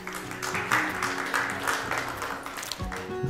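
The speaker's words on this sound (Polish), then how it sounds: "I didn't ask them to clap to welcome you." An audience claps in welcome for visiting guests, a dense, sustained applause that fills the room for a few seconds at moderate loudness with no talk over it.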